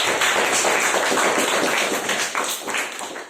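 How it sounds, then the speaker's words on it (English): An audience at a speakers' forum meeting breaks into applause, a dense, steady wash of many hands clapping close by that fades slightly toward the end. "A big round of applause for both."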